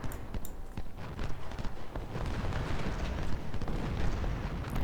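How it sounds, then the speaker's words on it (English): Cannon and artillery fire in a Civil War strategy game during the Siege of Suffolk, heard as repeated booming thuds and cracks scattered irregularly over a rumbling battlefield bed. "the cannon hit"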